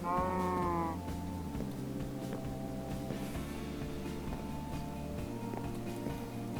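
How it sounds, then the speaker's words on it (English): A cow in the Minecraft video game lets out a drawn-out low moo at the start, then the game's background sounds carry on steadily, loud and alone. "I got to get this cow off of there before it gets killed"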